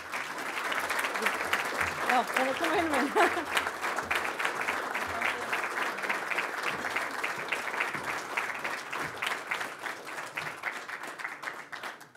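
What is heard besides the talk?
audience applause at golf awards ceremony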